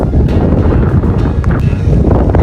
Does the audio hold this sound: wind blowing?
yes